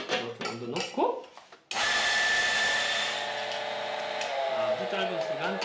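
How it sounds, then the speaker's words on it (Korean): An electric coffee grinder set to its finest espresso setting, grinding beans for camping coffee: after a moment of talking, a loud, steady motor whine kicks in abruptly and runs continuously to the end. "제일 가늘게 해야 되니까 파인 에스프레소로 이렇게 원두 넣고"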